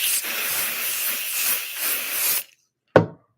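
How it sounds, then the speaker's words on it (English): A can of 505 spray adhesive is sprayed while making shirt samples, giving one steady, close hiss for about two and a half seconds, then silence and a short, sharp final puff. "Spray my 505 spray."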